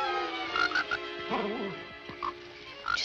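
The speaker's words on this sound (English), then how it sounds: "Just a little frog." A frog croaks in an outdoor night scene from the 1959 film The Sad Horse: a few short calls and one longer warbling croak, close and clear over a sustained musical score.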